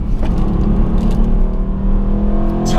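An Aston Martin AMR with a modified, straight-through exhaust pulls hard under full load, a loud, steady engine drone with a rising whine that swells toward the end, heard from inside the car on a twisty road near Monaco.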